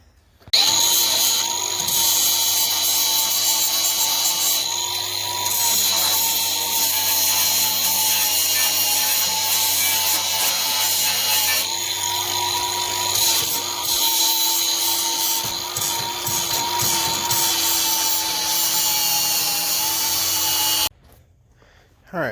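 An angle grinder cuts through the metal legs of a tool cart in one long, loud, continuous whine with a steady high tone, starting abruptly and stopping near the end.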